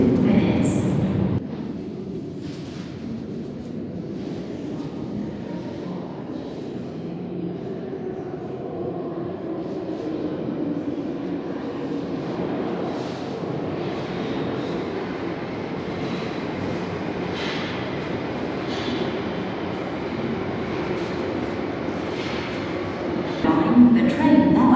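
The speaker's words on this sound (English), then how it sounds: "The train now approaching is to Brixton." A London Underground Victoria Line train at Finsbury Park rumbles steadily into the platform, a loud sustained roar of wheels and motors that fills the station, with a platform announcement voice briefly at the start and end.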